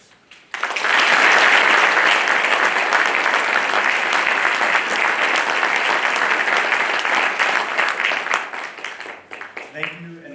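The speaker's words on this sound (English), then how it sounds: "please join me once again in applauding all of our new Honor Society members" Sustained applause from an audience at a 2022 National Honor Society induction ceremony, loud and steady for about nine seconds before tapering off near the end.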